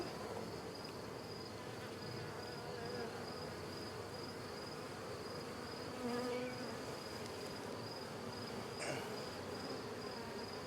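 Honey bees buzz steadily around an open nuc hive during an inspection, a dense continuous drone close by with individual bees flaring louder as they pass near.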